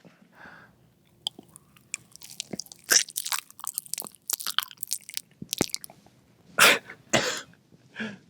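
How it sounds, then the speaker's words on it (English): Wet crunching and biting from someone chewing right up against a microphone, a series of close, loud irregular bursts with squelchy pauses and a few louder crunches toward the end. "Just chew it real close to the mic."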